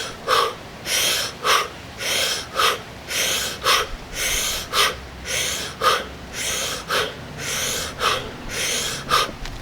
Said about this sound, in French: Vous respirez très vite,